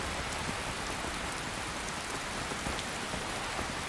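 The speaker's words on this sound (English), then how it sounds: "I will allow one torrential rainstorm." Torrential rainstorm weather in modded Skyrim Special Edition: dense, continuous rain pours across every surface in a steady hiss, with no thunder or talk.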